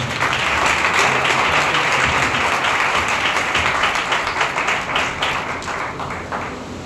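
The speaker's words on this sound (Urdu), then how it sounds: "زوردار تالیاں بجائیں۔" A church congregation at a Sunday thanksgiving service claps hard in a loud, sustained burst of applause with many hands, easing off slightly toward the end and free of speech.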